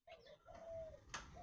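Pigeons or similar birds calling close by in a backyard loft, a drawn-out warbling coo followed by a sharp higher call, with faint background noise and no talk.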